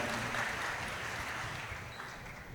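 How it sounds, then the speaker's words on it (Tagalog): A church congregation at a Manila worship service applauds, a soft, steady wash of clapping that slowly fades toward the end. "Yung malakas nga hong palakpak, ibigay natin sa Panginoon."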